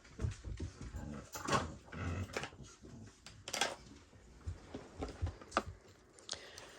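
A dog whimpers and scrambles around, jumping up on things indoors, with scattered bumps and scuffs and short whiny cries spread through the stretch.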